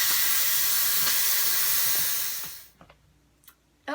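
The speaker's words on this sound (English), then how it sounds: "So you'll push the little nozzle on the top to venting, and this will take a few minutes to vent." Steam venting from an Instant Pot pressure cooker during a bean and chicken stew, a loud continuous hiss that cuts off sharply after nearly three seconds, followed by a few faint clicks.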